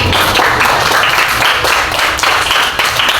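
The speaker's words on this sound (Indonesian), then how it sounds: "Oke, semuanya tepuk tangan." A class of children claps their hands together in a dense, steady burst of overlapping claps that carries on without a pause, loud and close, with no talking over it.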